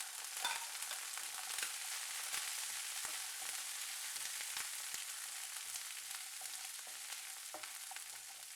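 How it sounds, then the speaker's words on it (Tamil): Ginger and small shallots frying in oil for an idli-dosa chutney, a steady bright sizzle throughout with faint occasional crackles and pops, no voices. "இப்போ வந்து இஞ்சும் சின்ன வெங்காயமும் சேர்த்துக்கிறேன்."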